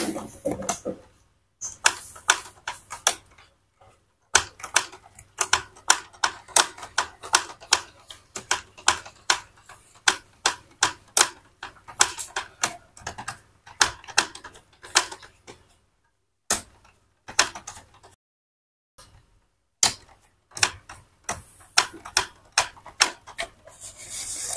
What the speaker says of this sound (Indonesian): kemudian kita coba lakukan proses pengetesan print